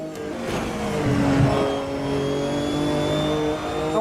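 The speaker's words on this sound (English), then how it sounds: "The turbo is, well, you can hear it." Turbocharged race car engine in the Automobilista 2 racing sim, loud and continuous with steady harmonic tones and a rising turbo whine, pulling hard over a crest for about four seconds without talk.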